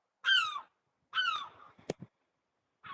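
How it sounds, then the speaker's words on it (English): Seagulls give a few harsh, descending calls, two longer squawks followed by a short one at the end, with a sharp knock in between, fairly close against a quiet background. "here's the seagulls again"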